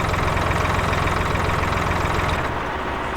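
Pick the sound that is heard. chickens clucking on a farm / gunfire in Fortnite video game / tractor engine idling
tractor engine idling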